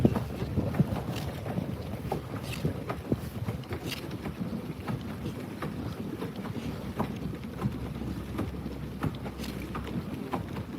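Continuous wind rushing over open water during bass fishing, with faint sloshing and small knocks against the boat, steady and moderately quiet.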